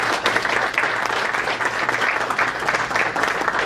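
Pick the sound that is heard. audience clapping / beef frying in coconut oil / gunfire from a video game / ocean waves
audience clapping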